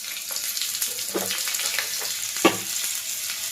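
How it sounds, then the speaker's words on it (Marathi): Asafoetida and chillies crackling in hot oil for a tempering, a close sizzle broken by scattered pops and stirring scrapes, with one louder crack partway through and no talking. "हिंग तड तडला तर गॅस बंद करायची मिरची टाकायची त्याच्यात"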